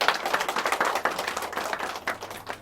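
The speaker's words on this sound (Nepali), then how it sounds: "ताली बजाइदिउँ यो बाबुलाई।" Audience applause for a boy at a Nepali church gathering, a dense run of claps that holds steady for a couple of seconds and then thins out, with no talk over it.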